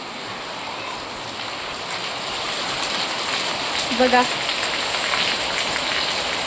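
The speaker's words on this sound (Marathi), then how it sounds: "बघा आमच्याकडे कसा पाऊस येते तुम्हाला दाखवते" First rain of the season falling in a steady, even hiss close by, a voice briefly speaking over it partway through.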